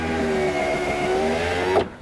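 The power window on a high-mileage Lexus lowers its glass with the key on, giving a steady whirring motor hum for nearly two seconds before it stops with a brief clunk, close up and with no speech.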